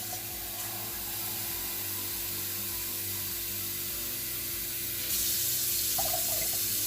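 Water poured from measuring jars into a cooking pot of ombidi, a steady splashing pour that grows louder and fuller toward the end, with no talking.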